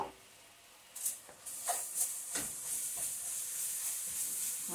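Garlic frying in a soup pot at home gives a soft, steady hiss with a few brief louder crackles and stirring clatters near the start, then an even sizzle that holds to the end.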